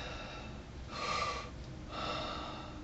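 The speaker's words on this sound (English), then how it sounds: "I'm just breathing out loud because talking about breathing, you need to kind of hear that I'm breathing" Two loud, deliberate breaths drawn from the stomach during a voice lesson demonstration, each an airy, hissing rush lasting about half a second and separated by a short pause.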